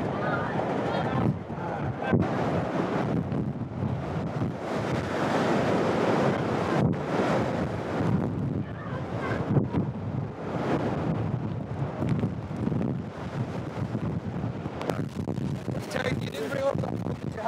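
Hurricane wind and waves on a river, a continuous roaring rush of gusting wind buffeting the microphone over churning water, with people talking faintly beneath it.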